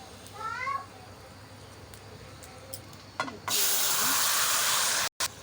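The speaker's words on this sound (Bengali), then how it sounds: "কালো জিরে ফোড়ন দিয়ে এটাকে সাঁতলাবো" Nigella seeds hit hot oil while tempering a prawn, papaya and potato curry. After a faint, quiet stretch with a few light clicks, a loud, steady hissing sizzle bursts in midway and keeps going.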